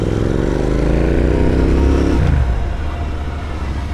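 Royal Enfield Interceptor 650 motorcycle exhaust, loud and close, with a deep throaty rumble that swells as the engine revs for about two seconds, then drops away into a steady lower idle.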